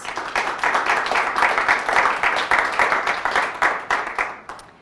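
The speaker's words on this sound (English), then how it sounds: "Let's give all of our sponsors a big round of applause." An audience at a business awards event applauds the sponsors, with many hands clapping in a steady, full round that fades toward the end.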